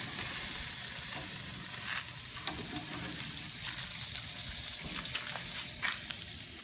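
Beef skewers and sausages sizzle on a grill with a steady, close, hissing crackle throughout, with occasional sharper pops and spits and no talking.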